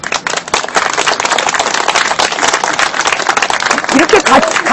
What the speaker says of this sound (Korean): 이렇게 같이 박수 치면 안 돼. 서너 명씩 번갈아 쳐야지.